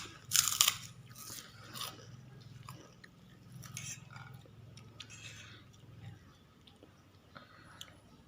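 Spicy Thai papaya salad, som tam made with olives, being eaten up close, with a few crisp crunchy bites and soft chewing at low volume.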